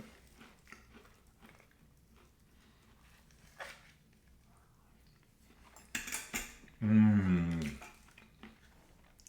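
Spoons clinking and scraping on Russian combat ration packaging, light close taps and rustles in an irregular rhythm, with someone talking over the later part.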